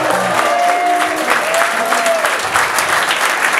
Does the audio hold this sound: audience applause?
yes